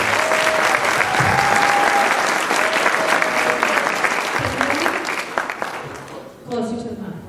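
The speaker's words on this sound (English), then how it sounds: "So a round of applause," An indoor audience at an evening radio dance event applauds a guest with sustained, dense clapping that fades toward the end before a voice begins speaking.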